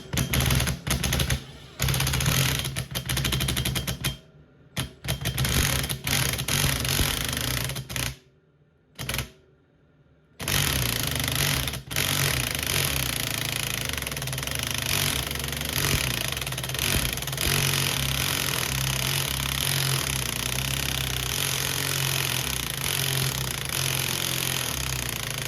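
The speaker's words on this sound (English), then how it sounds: "So we've got the impact driver, and I'm going to be quite gentle with this at first" An impact driver loosens bolts on a Bolens PTO pulley in a workshop, giving loud rapid hammering bursts broken by short pauses, then a long sustained run of rattling impacts.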